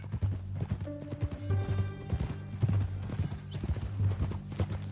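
Rhythmic clip-clop of horse hooves in Red Dead Redemption 2, close and steady, with a low droning background and a brief whinny-like tone partway through.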